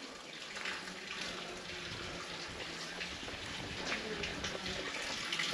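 Clean mountain water runs steadily from village stone fountains, a continuous near splashing stream that holds even in level throughout, with no voices over it.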